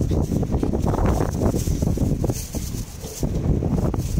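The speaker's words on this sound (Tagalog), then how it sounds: "Malakas yung hangin mga boss, malakas ang hangin." Strong wind buffets the microphone in loud, uneven gusts, rumbling low and continuous throughout.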